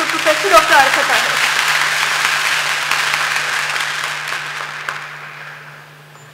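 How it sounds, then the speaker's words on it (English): Sustained audience applause at an international academic workshop on climate change, a dense, continuous patter of many hands that holds steady for several seconds, then slowly thins out over a constant low electrical hum, with brief voices early on. "Please have a big round of applause for Professor Dr. Arafat Tahir"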